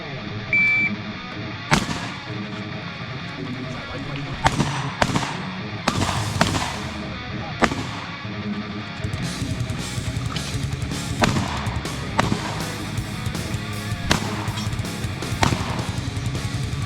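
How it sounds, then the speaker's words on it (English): Shotgun slugs fired at long-distance targets during a shooting match, heard as sharp, loud reports repeated at irregular intervals over steady background noise. "now you have to shoot long distance slug"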